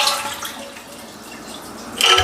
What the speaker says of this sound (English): Flush the toilet, get all that water out of there